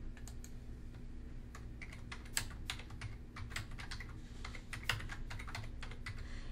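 A search query typed on a computer keyboard, a steady stream of close, quick key clicks over a low constant hum, with no one talking.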